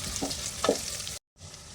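Onion, green chili, ginger and garlic sautéing in a pan for dhal kichadi, a steady close sizzle with a couple of stirring scrapes, cutting out briefly to silence before the sizzle resumes.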